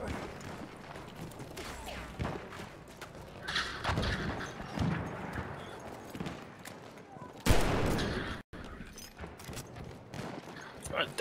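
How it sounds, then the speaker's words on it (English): Gunfire during a Battlefield 1 match, scattered loud shots and bursts mixed with battlefield noise, including one sharp, heavy blast near the end, while a player talks intermittently over the action. "God damn that gun loud"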